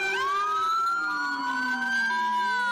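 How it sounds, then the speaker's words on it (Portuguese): A loud siren wails nearby, its rising and falling tones sweeping continuously with no talking. "sons de sirene começaram a soar em toda a terra"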